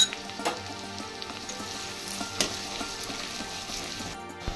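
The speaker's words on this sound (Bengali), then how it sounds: "আচ্ছা, পেঁয়াজটা হাফ ভাজা ভাজা মতন মোটামুটি হয়ে গেছে।" Onions sizzle and crackle steadily in a hot pan of oil with ginger and garlic for egg tadka, with a few sharper stirring clicks and spatula scrapes, close and continuous without voices.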